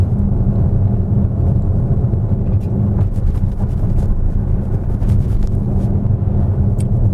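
Low, steady road rumble inside a Tesla Model S rolling over speed humps, a continuous near drone with faint thumps and no engine note.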